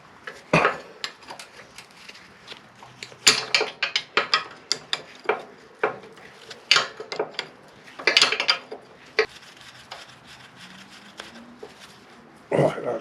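Hand tools work on the swing arm linkage of a Royal Enfield Himalayan motorcycle, with irregular metallic clinks, clanks and ratcheting knocks at close range, and a person speaking now and then.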